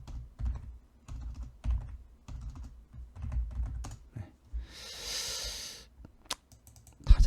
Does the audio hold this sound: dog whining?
no